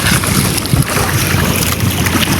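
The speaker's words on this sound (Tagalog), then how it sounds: "Mahirap po talaga dito pag amihan, kumpyang ang alon." Rough, choppy sea water churns and slaps continuously around a boat during the northeast monsoon, mixed with heavy wind buffeting the microphone, loud and close throughout.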